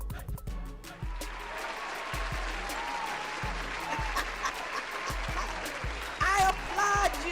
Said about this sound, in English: I want to give BTD Mom and the Rebel Inc. a standing ovation.